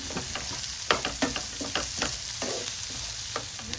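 Two onions frying in ghee in a pan for chicken sukka, a constant sizzle broken by repeated close scraping strokes of a spatula, loud and steady with no voices.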